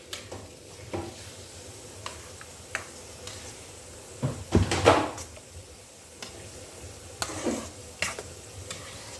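Fruit salad being stirred and tossed in a bowl, soft wet squelching and clinking with a few louder scrapes midway, close and steady with no talking.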